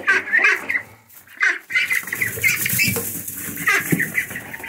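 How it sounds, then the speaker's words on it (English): Young meat ducks being moved to their daily spot on a farm, giving busy quacking and peeping calls that come in bursts up close, with rustling between them and no talk. "I'm gonna grab the ducks and put them in their daily spot."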